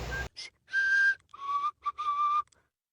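Tuneful human whistling in an edited clip, a series of clear held and sliding notes in short phrases with brief gaps, loud and close, with no talk over it.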